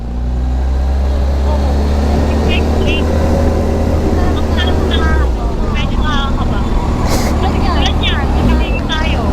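A big bike motorcycle used as a habal-habal taxi, its engine droning loud and steady with wind rush as it rides, while people talk over it throughout.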